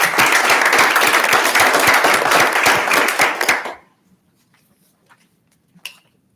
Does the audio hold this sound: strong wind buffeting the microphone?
no